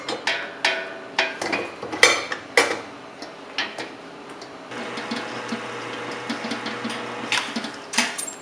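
Sausage meat being mixed by hand with spices for homemade Texas hot links, heard as close, irregular clicks, knocks and scrapes against a bowl, with a steadier rustling texture in the second half.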